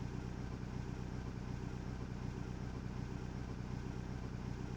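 A car engine running steadily in a visual novel game scene, a low continuous rumble that stays even throughout, quiet overall with no voices.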